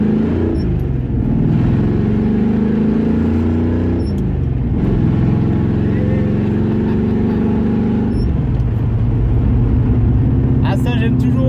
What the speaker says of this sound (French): ça m'empêche pas là aussi de vous faire une accélération. Et pour l'occasion, j'ai ouvert les cutouts.